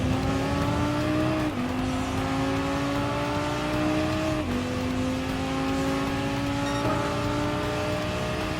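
A Lamborghini Huracan races a Bugatti Veyron in Gran Turismo Sport, engine roaring loud and close as it climbs through gears, with pitch rising steadily and dropping at each of several upshifts.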